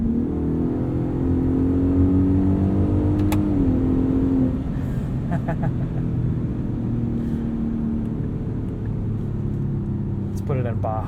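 A 2021 Ford F-150 Raptor with a 10-speed transmission holds a loud, steady engine rumble, its pitch sweeping and dropping through downshift blips, heard from inside the cabin.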